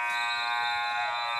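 An end-of-game buzzer sounds at a basketball league championship, one steady, loud, sustained electronic tone ringing alone for the whole moment.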